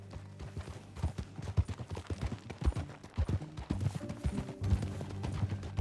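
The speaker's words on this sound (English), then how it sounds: "That a new horse?" Horse hooves clip-clopping at a steady walk in Red Dead Redemption 2, a rhythmic series of clear hoof knocks over a low background hum, moderately close and fairly quiet, with no talking.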